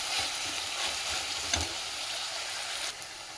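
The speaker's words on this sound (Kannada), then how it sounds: "ಇದನ್ನ ಚೆನ್ನಾಗಿ ಬಾಡಿಸ್ಕೊಂಡು ಬರೋಣ." Fenugreek leaves sauté in a hot pan for dal methi kadabu, a steady close broadband sizzle with faint stirring scrapes and a soft clink, no voices.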